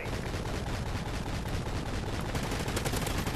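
Dense, sustained automatic gunfire in Call of Duty: Ghosts, a loud unbroken rattle of rapid shots throughout with no talk.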